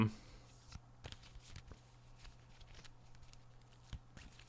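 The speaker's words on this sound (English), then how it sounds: "Just do a quick, oopsie, do a quick shuffle." Cards in Dragon Shield Jet Black sleeves are shuffled in a quiet, close series of soft slides and taps, with faint talk mixed in.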